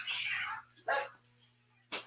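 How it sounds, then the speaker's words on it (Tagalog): A cat and a dog fighting outside, three short, faint bursts of yowling and barking heard from a distance over a steady electrical hum. "May nag-aaway na pusa at aso sa labas."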